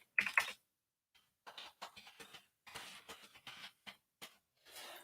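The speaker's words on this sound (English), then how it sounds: "Can you hear me typing?" Typing on a computer keyboard, close and quiet, in short irregular bursts of clicking separated by silent pauses.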